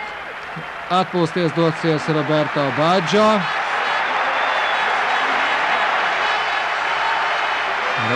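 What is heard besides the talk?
stadium crowd applause and ovation at football match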